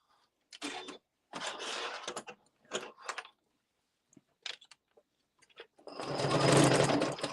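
A sewing machine stitches a Luxe Cuddle fair isle wrap in short bursts of whirring, separated by pauses, then one long, loud, steady run close by at the end.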